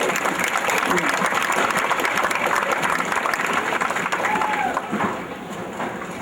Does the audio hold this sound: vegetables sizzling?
no